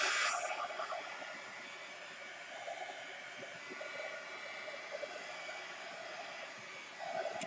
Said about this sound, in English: I'm going to hit this with a dryer real quick.